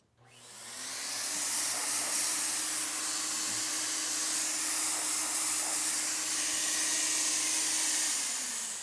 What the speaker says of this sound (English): I turn the gun on, I spray a wall, I spray some cardboard, some test surface